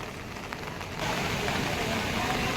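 Steady rain falls in Haridwar near Har Ki Pauri, a dense even hiss of drops on surfaces that grows slightly louder partway through, with faint street noise underneath.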